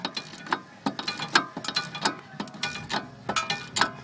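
A socket wrench ratchets on a sway bar link nut during a car suspension job, giving a series of sharp, close metallic clicks in short irregular bursts with no talking.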